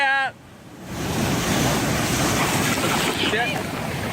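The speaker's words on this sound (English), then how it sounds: "The second those waves rolled in, he knew no fish today." Ocean waves roll in and crash around a small fishing boat, a loud continuous roar of surf and wash with wind noise, following a brief high whistle-like sound at the start.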